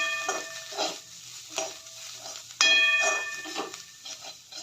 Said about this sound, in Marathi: चवीनुसार मीठ, लाल चटणी, अर्धा स्पून हळद, गरम मसाला चांगल्या पद्धतीने भाजून घेऊ